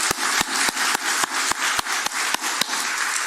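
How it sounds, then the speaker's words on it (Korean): Congregation at a Friday evening church revival service clapping in unison, a dozen sharp, evenly spaced claps over a steady crowd murmur. "박수 한번 치면 감사합니다"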